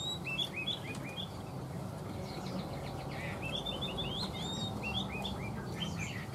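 A caged hwamei songbird sings a lively stream of quick, bright whistled chirps and trills, repeating phrase after phrase over a steady low background hum, with no talking.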